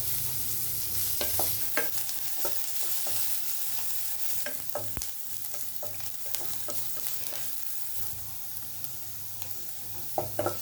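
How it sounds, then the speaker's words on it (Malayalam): Chopped onions sizzle in a pan for poha while a spatula stirs them until golden brown, a steady frying hiss broken by sharp scraping clicks, with no one talking. "ഉള്ളി നല്ല ഗോൾഡൻ ബ്രൗൺ കളർ ആവുന്നിടം വരെ നമ്മളിത് നല്ലോണം ഫ്രൈ ചെയ്യണം"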